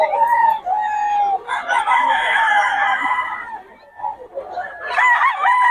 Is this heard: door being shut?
no